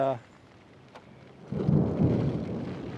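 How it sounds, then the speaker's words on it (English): A thunderstorm rolls in with a sharp crack followed by a loud, sustained low rumble of thunder and a light drizzle of rain outdoors, after a brief voice at the start. "it's thundering and lightning and it's starting to drizzle rain"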